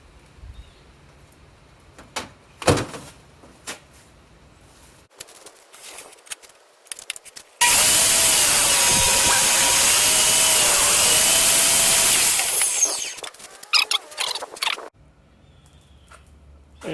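Power saw cutting through black walnut wood in a shop, one steady loud cut of about five seconds, framed before and after by quiet handling clatter and footsteps.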